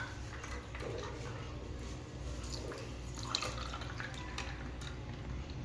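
Quiet, steady trickle of water being poured, with faint drips over a soft background hum.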